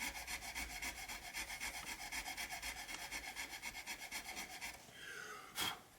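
Nut slots on a Ventura Les Paul guitar being filed deeper, a steady rapid rasping back-and-forth stroke repeated many times, close and quiet, then a brief pause and a sharper scrape near the end.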